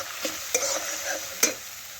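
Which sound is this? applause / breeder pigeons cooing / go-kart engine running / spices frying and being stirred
spices frying and being stirred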